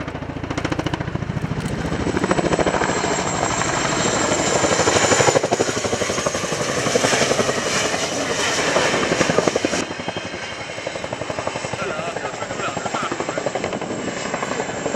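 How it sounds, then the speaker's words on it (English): Helicopter at an airshow flying a low-level turn at about 140 knots and then a nose-down quick stop along the runway, with a loud, steady rotor thump and engine roar that holds throughout and dips slightly near the end. "The aircraft will exit the low-level turn at approximately 140 knots and then bring it to a complete stop at the far end of the runway"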